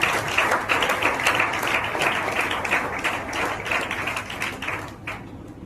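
Audience in a church gathering applauding warmly, a dense, steady wash of many hands clapping at close range that holds evenly before tapering off near the end.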